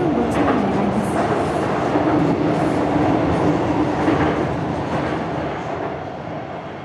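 A train pulls into a station platform in the mobile game Persona 5: The Phantom X, with a loud, steady rail rumble and rolling wheel noise that fills the scene and slowly eases off toward the end.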